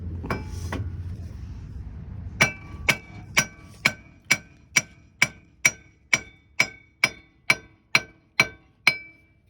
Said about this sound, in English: Now we're gonna grab our solid hammer.